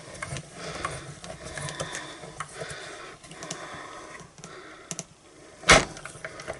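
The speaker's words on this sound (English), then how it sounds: "I'm just going to wind this through my little mini boss machine." A paper card is cranked by hand through a small mini embossing machine, giving a close, soft grinding and clicking rattle with light handling noises and a sharp clack near the end.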